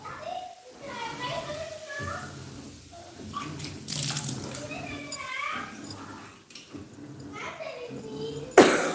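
Water runs from an open household tap in a steady hiss, partly buried under children's excited chatter and an adult talking close by, ending in a brief sharp clatter.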